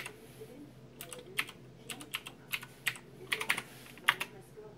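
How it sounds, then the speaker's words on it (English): A password is typed on a computer keyboard: a dozen or so crisp, close key clicks in an uneven rhythm, some clustered in quick pairs, over a quiet room hum with no talk. "I'm gonna type in the password."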